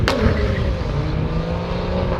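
An E90 BMW 335i, rear-wheel drive with a valved exhaust, pulls hard under acceleration, the engine note loud and close as it climbs steadily through the revs from inside the car.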